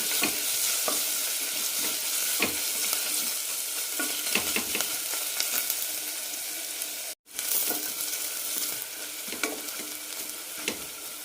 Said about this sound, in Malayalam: കൂടെ തന്നെ ഒരു സവാള അരിഞ്ഞത് നന്നായി വഴറ്റാം.